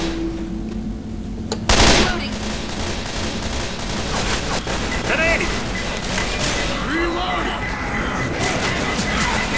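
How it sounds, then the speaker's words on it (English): Rapid bursts of automatic rifle fire, a SCAR in three-round burst mode, crackle in the co-op zombie shooter Left 4 Dead 2. One loud sharp report stands out early, then sustained shooting continues under overlapping player chatter. "Stop shooting him!"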